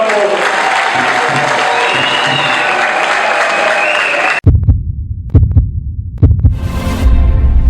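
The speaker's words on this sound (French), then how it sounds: "Une fois, applaudissez pour Irène Sabo." Audience applauding at an event, a dense steady wash of clapping that stops abruptly halfway through, followed by a few scattered loud thumps and a fresh burst of noise.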